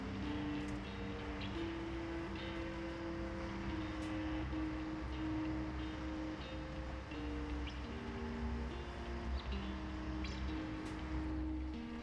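A truck engine idling steadily in SnowRunner, a continuous low droning hum with shifting tonal overtones, even and sustained with no speech over it.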